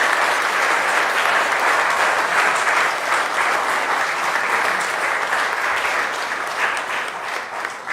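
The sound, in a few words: conference audience applause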